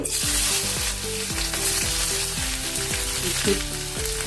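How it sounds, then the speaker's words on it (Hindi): A large amount of onion frying in hot oil with bay leaf, cumin and mustard seeds, a steady sizzle under a repeating background music melody. "अभी हम बहुत सारा प्याज डालेंगे।"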